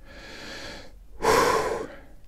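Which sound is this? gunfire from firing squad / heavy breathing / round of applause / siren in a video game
heavy breathing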